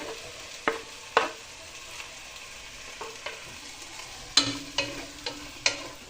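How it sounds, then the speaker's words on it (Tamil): Tomatoes and garlic sautéing in a pan for a red sauce chicken pasta: a quiet sizzle broken by a series of sharp spatula scrapes and taps, close by, with no voices. "இதை வந்து நல்லா வதக்கிக்கோங்க ஏன்னா இதை வந்து நம்ம பேஸ்ட்டாக எடுக்கணும்"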